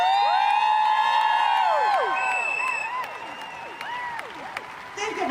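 An audience at a street protest against ICE claps and cheers for local businesses, with sharp whistles and whoops rising over steady applause that gradually softens.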